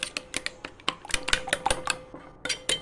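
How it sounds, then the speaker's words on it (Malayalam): A spoon stirs and mixes a spiced mixture with garam masala and salt in a bowl, giving quick, irregular clinks and scrapes up close and alone. "ഇളക്കി യോജിപ്പിച്ചെടുക്കുക."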